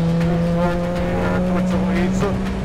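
A race car with a Toyota 2JZ engine and twin turbos drones steadily on track, its engine note holding a loud, sustained tone heard from inside, with people talking over it.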